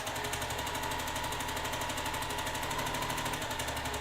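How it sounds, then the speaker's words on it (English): A sewing machine stitches along a drawn line on a quilt block, a steady fast mechanical rattle running continuously and close up without pause. "now we're going to sew down"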